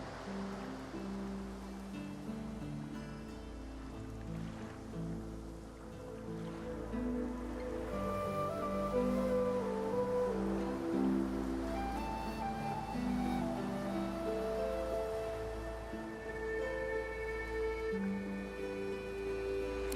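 Ocean surf ambience from the video game Divinity: Original Sin 2, a steady, moderately loud wash of waves that swells slightly midway, with sustained tonal layers running beneath and no speech.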